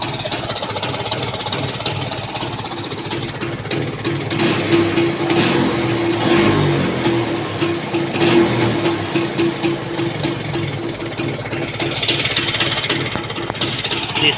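A Bajaj Chetak scooter engine runs steadily after repair, a continuous loud mechanical drone with a slightly knocking rhythm throughout, with a brief spoken remark partway through.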